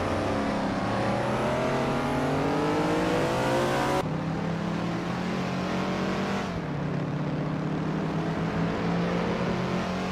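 Several racing video game car engines, among them a 1969 Ferrari 365 GTB/4 Daytona, drone and rise together in a loud continuous whine, pitch climbing through gear changes, with abrupt cuts between engine views and no voices.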